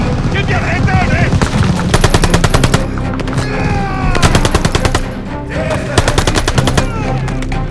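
Machine gun fire in the Call of Duty: Vanguard video game, loud rapid bursts of automatic gunfire repeating over several seconds with battlefield noise and shouted voices underneath.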